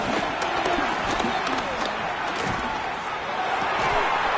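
Stadium crowd noise from the Madden football video game: a loud, steady roar of cheering spectators with scattered thumps and game sounds, constant throughout.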